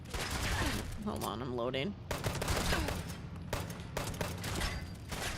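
Rapid bursts of gunfire in the video game Fallout 76, sharp repeated shots in clusters, with someone talking over them in between.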